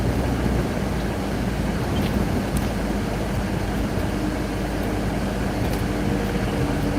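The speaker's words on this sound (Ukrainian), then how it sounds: "у нас очень шумна машина" A loud, steady engine roar and road rumble fill the cabin of a moving car, a dense low drone without pause.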